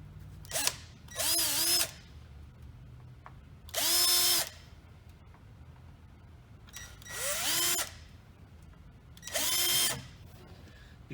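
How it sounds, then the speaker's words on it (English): A power drill with a 1/8 inch bit bores holes into a UTVA fold-down RZR windshield, five separate short runs of the motor whining up and down, with quiet pauses between each hole. "So we're going to go ahead and drill all these."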